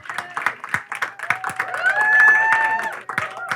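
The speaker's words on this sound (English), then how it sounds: "Give them a big round of applause." Audience applause at a local Table Topics meeting, mixed with cheering and speech, building to a dense peak of clapping before tapering off.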